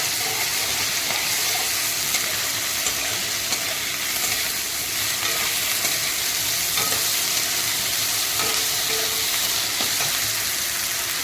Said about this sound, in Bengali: 2 চামচ মতো আদা রসুনের পেস্ট দিয়ে দিলাম। দিয়ে একটু নাড়াচাড়া করবো সুন্দর করে।